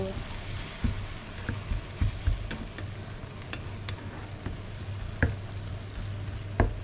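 Egg and tomato sautéing in a pan fill the scene with a steady, close sizzle, broken by periodic scrapes and taps from a spatula stirring the mix, with a soft voice briefly audible underneath.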